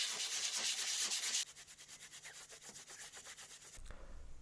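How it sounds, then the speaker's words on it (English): Stained wood being sanded by hand with fine sandpaper or steel wool, making a rapid, rhythmic back-and-forth rasp, close and steady, first coarse and bright, then lighter strokes. "use the fine sandpaper or steel wool to sand the surface"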